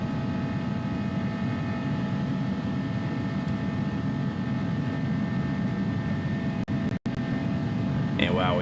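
Airbus A300F freighter jet engines in the X-Plane 11 flight simulator, a steady loud broadband roar with a sustained whine, briefly cut by two short dropouts near the end.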